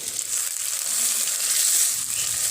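Raw onions and green chillies frying in a pan, a dense continuous crackling sizzle, loud and close throughout, no speech.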